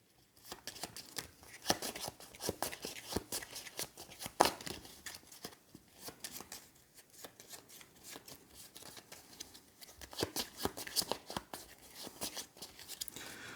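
Danger cards being drawn, flipped and handled on a table during a solo game of the Bossin Space board game, a steady series of close crisp card snaps and slides with irregular rhythm and no talking.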